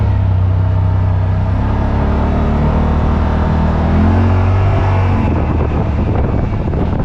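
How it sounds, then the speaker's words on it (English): A 2025 Yamaha Wolverine RMAX 1000 side-by-side engine drones steadily up close, with a low hum and rising pitch as it revs, mixed with wind and road rumble. "I actually like the sound of the engine"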